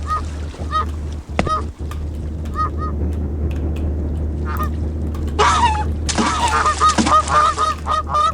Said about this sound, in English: I like the ducks, though.